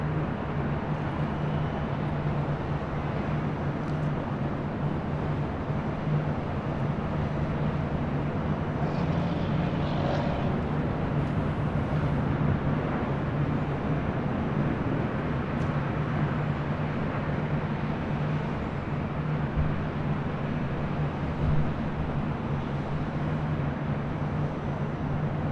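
A Turkish Airlines Boeing 777 airliner at LAX gives a steady low jet roar that holds evenly throughout, distant and continuous with no talk.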